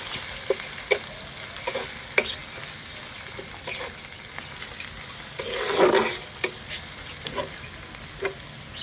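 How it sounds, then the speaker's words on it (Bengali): Garlic, chopped onion and whole cumin fry in oil in a pan, giving a steady close sizzle broken by sharp spatula taps and a brief swell of stirring. No voices. "আমি লাল লাল করে ভাজে নিব সবগুলা।"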